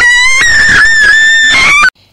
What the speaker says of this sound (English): Suddenly, Ralph heard horrifying screams outside.